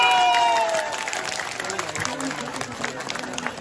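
A crowd at a gathering applauding the Nepali home minister on his arrival, a dense burst of clapping that starts loud and thins out, with voices mixed in.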